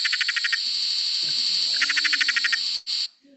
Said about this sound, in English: I do have the black-eyed little frog, the one that sounds like a machine gun,